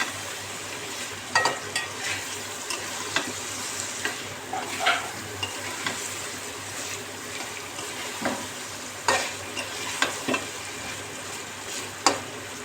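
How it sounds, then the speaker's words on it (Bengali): Chicken pieces cook in a hot pan for a vegetable khichuri, sizzling steadily while a spoon stirs them, with close irregular scrapes and clacks punctuating the frying hiss. "মাংসটা দিয়ে ভালো করে রান্না করব,"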